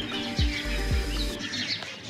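Pigeons kept as a home flock, two short low bursts of cooing close by over a continuous bed of outdoor noise, with faint chirps in the background.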